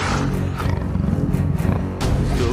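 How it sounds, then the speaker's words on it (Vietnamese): A leopard in an animated Vietnamese folk tale lets out deep, rumbling roars in quick succession, loud and close, with no talk over them. "Đây là tiếng gầm của con báo."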